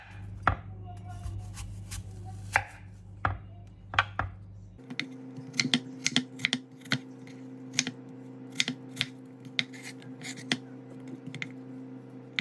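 Knife dicing apples into medium-sized pieces on a cutting board, a steady run of crisp, close chopping taps that picks up pace after a short pause, with no talking.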